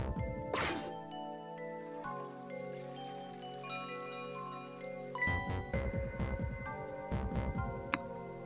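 Bell chime from the Ghost Trick: Phantom Detective video game: bright tinkling tones ring out over layered musical hum, with repeated clear dings and jingling notes continuing throughout.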